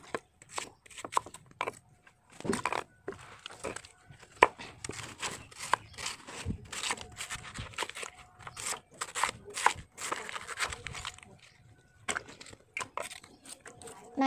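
Banana suckers chopped up for organic fertilizer, making a run of close, irregular crunchy cuts and crackly chops at a fairly quiet level, with no talking.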